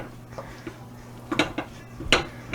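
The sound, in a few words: stirring melting chocolate in a pot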